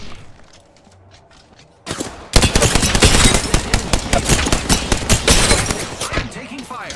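Rapid bursts of gunfire in Apex Legends: after a quiet stretch, loud automatic fire and shots erupt and keep going in dense, fast volleys, close and intense to the end.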